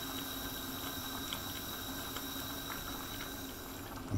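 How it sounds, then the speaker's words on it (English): Sausage and bean casserole simmering on low heat in a pot, giving a steady, close, continuous bubbling with no voices. "A simmer is just bubbling and the heat is on low."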